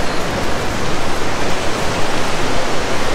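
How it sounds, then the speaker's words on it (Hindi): A waterfall beside the Mandakini River at Rambara, on the Kedarnath trek, pours in a loud, steady rush of broadband water noise with no pauses. "वाटरफॉल भी है सामने"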